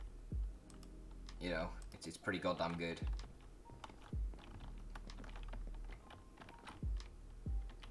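Someone types on a new computer keyboard with soft, irregular key clacks and thumps while someone talks over them.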